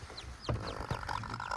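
A miniature hen on a homestead gives soft, low clucks among faint chick peeps, quiet and close, in a brief stretch.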